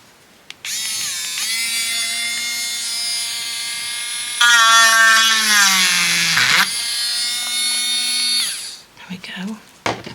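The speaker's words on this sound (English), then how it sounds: "I'm going to drill another hole in the bottom of this one." A drill bores a hole in the bottom of a craft piece, giving a steady high whine for about eight seconds. The pitch sags and grows louder under load midway, then the motor stops.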